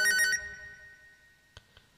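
A telephone rings at the start, a short bright electronic ring tone that fades out, followed by a few faint clicks in near silence.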